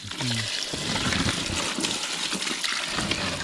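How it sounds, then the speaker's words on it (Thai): Water splashes and gushes continuously over freshly caught field crabs as mud is rinsed off them, a close, steady wash of running and sloshing liquid. "ล้างโคลนล้างอะไรเอาครับ"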